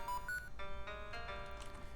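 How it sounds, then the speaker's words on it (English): Short electronic chime from the Zelda Classic game, marking a key hidden in the room: a few bright, rising tonal beeps in quick succession, clear and close over soft game music. "That chime you just heard means there is a key somewhere in the room."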